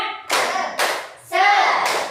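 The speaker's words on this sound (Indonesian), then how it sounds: "Tepuk semangat." Classroom of students doing the tepuk semangat clapping chant: close, loud bursts of rhythmic group clapping mixed with chanted voices, in a short patterned sequence.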